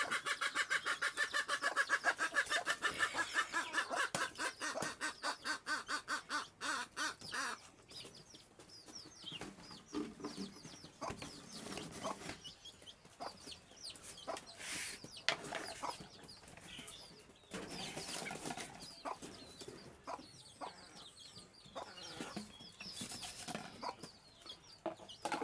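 Local desi hens and young chicks clucking and peeping nearby, with dense shrill chick chirps crowding the first few seconds, then scattered clucks and peeps continuing with no talk.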